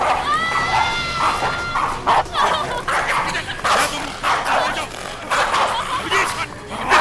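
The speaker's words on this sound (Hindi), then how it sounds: "उस पर कुत्तों ने अटैक कर दिया" Several dogs barking, yipping and whimpering loudly during an attack, overlapping with shouting voices throughout.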